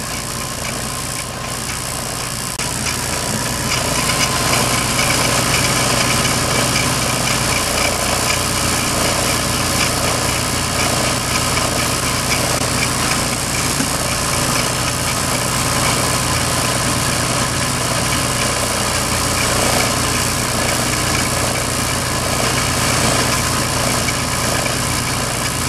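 A small torch flame heats the end of a glass stem as it turns in a lathe, while a spherical vacuum tube is being made. It is a continuous, loud roaring hiss over a steady machine hum, with no talking.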